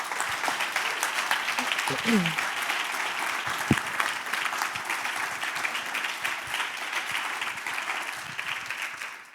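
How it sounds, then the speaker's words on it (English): Sustained audience applause after a talk on reporting about machines, a dense steady wash of clapping from a seated crowd filling the room for about nine seconds, with a brief murmur of voices early on. "maybe a round of applause for Sidney from this point"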